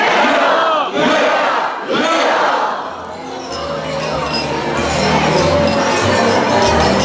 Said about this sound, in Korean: 모든 분들이 큰 소리로 위하여를 3번 큰 소리로 외쳐주시기 바랍니다